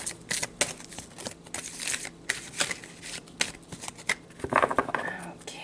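Tarot cards shuffle steadily in quick riffling bursts, close and soft, with brief crisp flicks and rustles.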